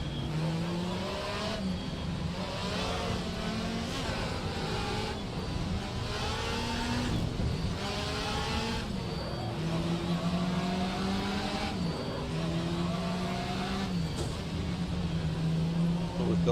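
Touring race cars scream around Brands Hatch in the 1996 BTCC, engines rising and falling through gear changes as several cars pass close, with a commentator talking over the roar throughout.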